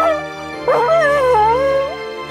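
A dog howls and whimpers in a video game scene by the water, a single drawn-out wavering howl with whining inflections, close and fairly loud over a faint steady background.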